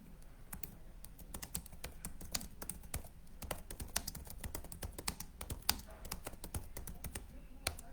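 Continuous clicking of computer keyboard keys, an even run of sharp taps lasting several seconds, close and soft, with no talk.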